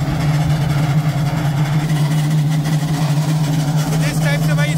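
A Gomaco 2400 concrete paver laying pavement at a toll plaza runs with a loud, steady low engine drone and vibrating hum throughout, with a faint higher chatter near the end.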